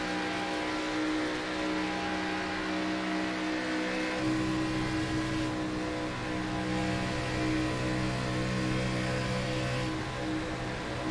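Race car engines in the iRacing ARCA Series at Daytona drone and rev steadily at full throttle, a dense layered whine of several cars running close together, loud and continuous with no voices over it.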